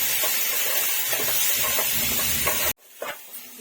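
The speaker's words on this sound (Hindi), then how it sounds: "इसको हम इसी तरीके से टमाटर भून लेंगे जब तक हमारे टमाटर नरम नहीं हो जाते" Tomatoes fry and are stirred in a pan for egg bhurji, with a loud continuous sizzle and regular scraping strokes, then the hiss abruptly drops to quieter stirring near the end.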